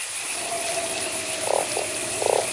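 Two short, throaty croaks from a toad in a video game over a constant electronic hum, the second following about a second after the first.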